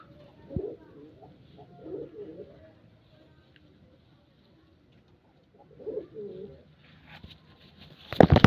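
A pet pigeon being handled and fed medicine from a cage gives soft, low coos in a few separate phrases, with a short burst of fluttering or handling noise at the end.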